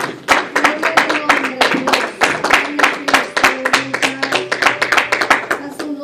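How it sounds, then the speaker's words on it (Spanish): Church congregation clapping in a service, sharp close handclaps in a lively rhythmic run with some voices and a sustained tone mixed beneath. "Dale un aplauso a Cristo."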